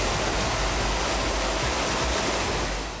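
Steady, dense roar of a waterfall pouring into a cave, loud and continuous with no voices, the broadband rush holding even throughout before easing slightly at the very end.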